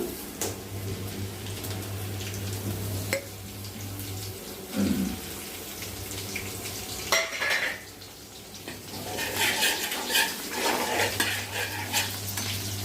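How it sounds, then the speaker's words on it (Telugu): Dried fish pieces frying in oil for a brinjal curry, a low bubbling sizzle under frequent clinks of utensils against the pan, a steady low hum and a brief burst of running water, no talk. "ఈ ఎండుచేప ముక్కల్ని ఆయిల్లో డ్రై చేసుకోవాలి"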